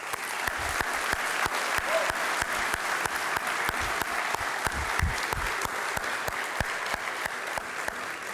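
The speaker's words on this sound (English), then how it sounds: "Please, round of applause." An audience claps at a high school senior awards night, steady dense applause that runs evenly throughout, with a few sharp individual claps standing out close by.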